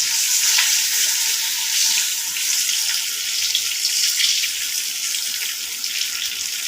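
Galunggong fish fry in hot oil in a pan in a Houston, Texas kitchen, giving a steady, close, bright crackling sizzle throughout with no talking.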